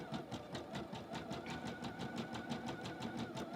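A Bernette b70 DECO embroidery-only machine by Bernina stitches lettering with a steady, fast mechanical whirr and rapid even needle ticking, running continuously and alone at moderate loudness.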